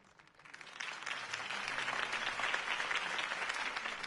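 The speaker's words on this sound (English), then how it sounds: "could have heard that applause" A crowd's applause in Batman: The Telltale Series swells up and holds steady, a dense wash of clapping at moderate distance with no clear voices.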